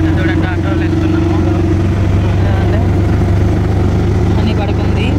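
An auto rickshaw's engine drones steadily and loudly while the vehicle rides along a road, a continuous close hum with no pauses throughout.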